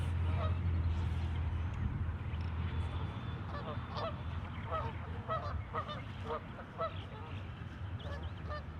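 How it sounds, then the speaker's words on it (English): Geese on a pond honk repeatedly in an irregular chorus of moderately close calls over steady low background noise, with no talk. "There's geese back there, all back there."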